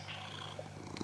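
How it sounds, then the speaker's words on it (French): A cat purrs softly and steadily at close range in a quiet room, a low continuous rumble with no voices over it. "Ça ronronne, ça."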